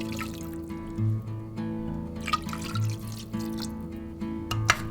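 Water poured into a pressure cooker holding mutton with salt and turmeric, a soft close trickle and splashing in a kitchen, with brief louder pulses of flow over a steady low background hum.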